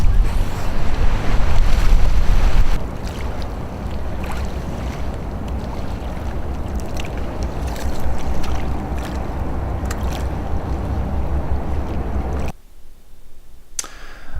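A boat runs a rapid drop on the Susquehanna River, with loud, steady rushing water and wind buffeting over the hull, the roar easing briefly before a sudden drop to near quiet at the end.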